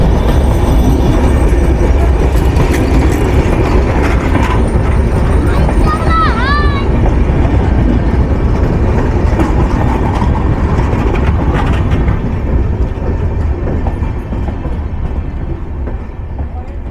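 Madhumati train with LHB coaches standing at Mawa station, its steady, loud rumble filling the platform, with a brief high squeal midway and people talking nearby before the sound eases off slightly at the end.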